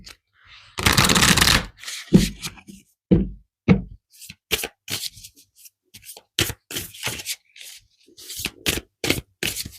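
Tarot cards shuffled and pulled, a long riffling burst followed by a string of short, sharp card snaps and slaps, close and dry with quiet gaps between.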